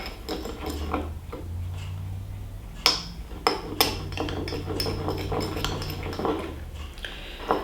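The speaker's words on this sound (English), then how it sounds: "Now this I will stir it with a spoon." A spoon stirs homemade tooth powder in a small dish, giving repeated light clinks and scrapes with a few sharper taps, close and steady throughout.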